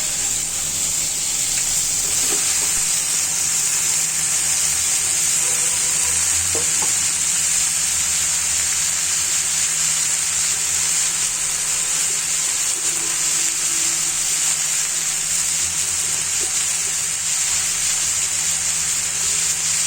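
Radish greens tossed into a pan with already fried pangas fish and spices, sizzling and frying steadily throughout with occasional stirring scrapes, close and loud, no talk.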